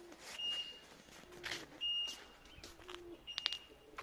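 Caged birds in a homemade pen give soft, faint calls and brief chirps at close range, with intermittent light rustling and no talking.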